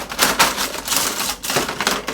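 Gel pens are stirred by hand inside a plastic storage container decorated with mermaids, a close, busy clatter of rapid clicking rattles in uneven bursts.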